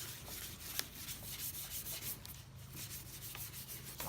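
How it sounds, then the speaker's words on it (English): Hands rub oil into wood with steady back-and-forth friction, a continuous close scratchy sanding-like rasp that runs throughout, with no talking. "Just get on here and just rub that until it starts to get hot."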